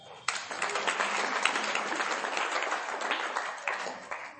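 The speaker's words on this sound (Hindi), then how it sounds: "आप अपने लिए एक बार ताली बजाओ।" A group of children claps for themselves, a steady, fairly soft burst of many hands applauding together for a few seconds with no talk over it.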